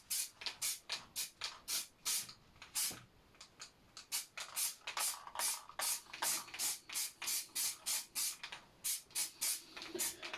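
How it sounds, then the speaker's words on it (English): Repeated short hissing bursts of a spray can, rhythmic and close, each lasting under a second with brief pauses between. "I normally have to spray it onto a board first to get that colour out"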